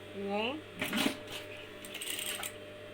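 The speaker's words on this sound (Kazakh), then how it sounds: "Осылай кезекпен тігеміз." A sewing machine stitches patchwork quilt pieces in short mechanical rattling bursts, and someone talks over it.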